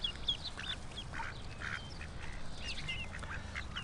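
Several ducks quack in quick, irregular bursts outdoors in the sun, fairly close, over a steady low rumble of background noise with no one talking.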